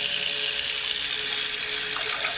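Stick blender whirring steadily as it mixes soap oils with kaolin clay and goat milk, a continuous close high-pitched motor whine with no talk over it.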